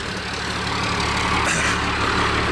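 Big truck, a 1997 Larrabee, running just after start-up, a loud continuous low engine rumble with a brief hiss partway through.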